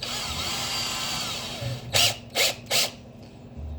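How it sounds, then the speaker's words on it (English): A power drill runs against sheet metal of a 1951 Ford sedan's lower door panel, giving three short, loud bursts of drilling, one after another, over a steady background hum. "I'm gonna get my drill and I'm gonna get a drill bit on there"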